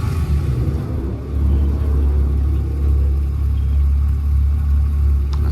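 Car fitted with a full custom Profusion exhaust system rumbles loudly and deeply at close range just after starting, settling into a steady, throaty idle with slight swells.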